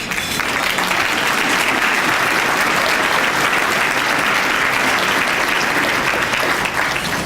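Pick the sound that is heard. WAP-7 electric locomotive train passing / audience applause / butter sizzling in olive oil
audience applause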